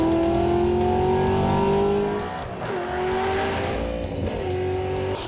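A pump-gas street car with a junkyard 4.8L engine roars loudly down a drag strip, holding a strong engine tone, with a brief shift dip midway before pulling hard again, close and without talk.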